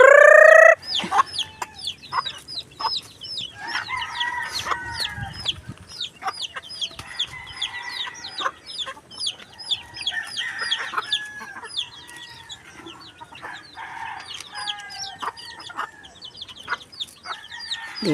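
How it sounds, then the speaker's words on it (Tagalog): Free-ranging farmyard chickens cluck busily and continuously nearby while a rooster crows, the calls overlapping in a lively, dense chorus outdoors. "lalayo po ang mga manok pag hindi pinatuka"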